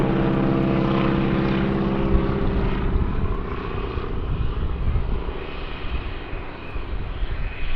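A Stearman biplane flies aerobatic loops and rolls at the Farnborough air show, its radial engine and propeller producing a loud, continuous droning roar that swells and shifts in pitch as the aircraft manoeuvres overhead.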